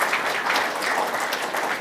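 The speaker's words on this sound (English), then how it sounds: "Can we please give a round of applause to our founders for being here today?" Dense, continuous applause from a conference audience at a responsible AI event, welcoming the founders; even and sustained without a break.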